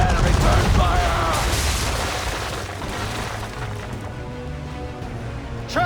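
Ship cannons return fire during a naval battle in Assassin's Creed III, opening with heavy booming volleys that fade into rumbling echoes, with a voice speaking over the din.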